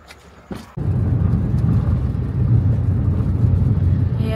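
A car drives along a paved road on a trip to the Marleshwar temple, a steady close engine and tyre rumble that starts abruptly after a brief quiet moment and continues without talking.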